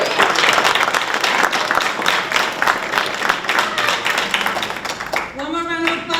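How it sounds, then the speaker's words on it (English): Warm crowd applause at a graduation ceremony for construction trainees, dense clapping sustained for several seconds before tapering off as a voice begins to speak near the end. "One more round of applause for Jean."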